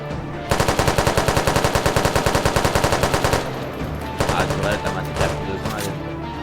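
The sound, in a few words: automatic turret gunfire in SCP video game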